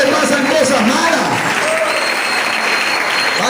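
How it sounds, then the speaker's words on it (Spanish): A church congregation claps loudly and continuously, a dense wash of applause filling the room with faint voices underneath. "Denle un aplauso"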